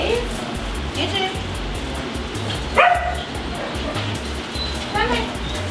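An aggressive French bulldog barks in short sharp yips and barks during a training session, several separate outbursts with a louder one midway, over a steady background hum.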